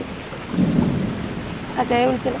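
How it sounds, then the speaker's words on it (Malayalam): Heavy rain pours in a dense, steady hiss, with a brief voice rising near the end. "ബിനോയുടെ വീട് മഴയാ ഭയങ്കര മഴയായിപ്പോ"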